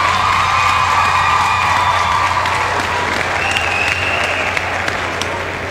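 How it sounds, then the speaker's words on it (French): Loud, dense applause from a festival crowd at a youth rock band show, mixed with cheering and excited shouts from young voices, holding steady throughout with a low hum underneath. "on en donne une bonne main d'applaudissements"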